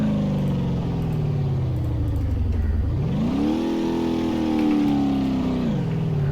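A timber truck's engine revving on its own on a forest road, a steady loud drone that surges higher midway, holds, then dips slightly, heard alone without talk.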